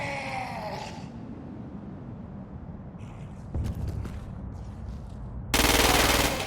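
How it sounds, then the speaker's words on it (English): A standard-issue agency assault rifle in Crackdown 2 fires in short bursts of rapid shots, loud and close, with a sudden louder burst near the end after a low background hum. "The ordnance you now hold is a standard-issue agency assault rifle."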